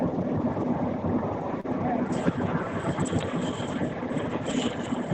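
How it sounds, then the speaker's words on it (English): Steady, loud road and engine rumble inside a car driving home, a broad continuous roar with wind-like hiss that barely varies throughout. "you have a lot of background noise, it's kind of hard to hear you over that. Sorry, I'm driving home."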